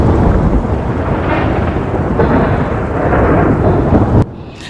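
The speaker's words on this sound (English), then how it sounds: "Let the intensity of the storm rise." A loud thunderstorm with continuous rumbling thunder and rain roars throughout, swelling in intensity, then cuts off abruptly near the end; no speech.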